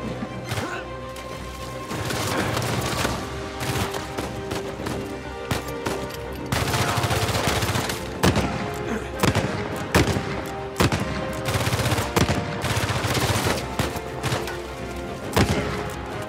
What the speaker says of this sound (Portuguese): Nossa, que tiro.